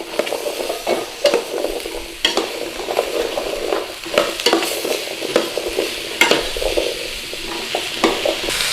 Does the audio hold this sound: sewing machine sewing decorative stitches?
no